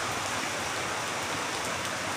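Heavy rain that has just started, pouring down in a loud, even wash of noise close at hand.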